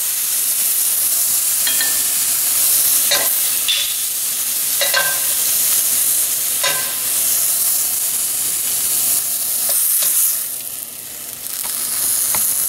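Beef for a stew frying in a pan, a loud continuous sizzle and hiss with occasional spoon scrapes and clicks, close by with no voices.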